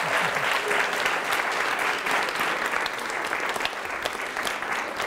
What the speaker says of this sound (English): let's give Dr. Herzog a round of applause